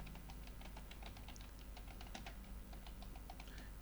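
Rapid, steady typing on a computer keyboard while working on a Microsoft Word assignment, dense clicking keystrokes close up with no talking.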